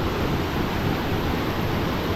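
Water rushing at Sajla Waterfall near Manali, heard as a steady, dense roar that holds at an even loudness throughout, with no voices.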